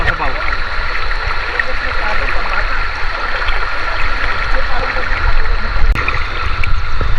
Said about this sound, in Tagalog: Marinig mo yung kaluskos ng ilog at huni ng mga ibon.